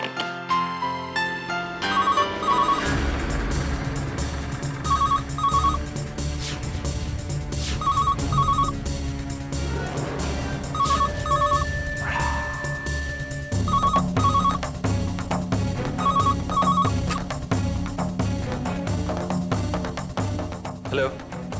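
A telephone rings in a Hindi TV serial scene, sounding as repeated pairs of electronic bell trills at a steady rhythm over a background music bed.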